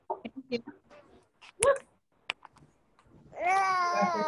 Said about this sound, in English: Dogs and babies everywhere.